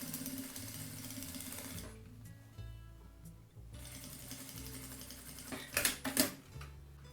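Sewing machine stitching fabric for a shelf organizer, a fairly quiet mechanical run with rapid rhythmic stitching in two stretches separated by a pause, and a few sharper clicks near the end.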